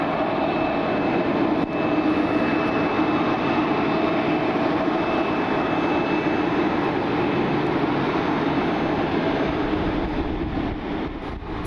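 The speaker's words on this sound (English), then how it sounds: "Taxi over for departure, they will be heading to Denver." An Envoy airliner taxiing for departure to Denver at Cleveland Hopkins in misty rain, a steady distant engine rumble and whine holding evenly throughout with no speech.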